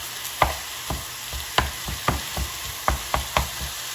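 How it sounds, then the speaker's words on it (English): Steady sizzling of ground turkey frying in a pan, punctuated by repeated scraping and tapping as it is stirred and broken up, with no talking. "So now the turkey is sizzling."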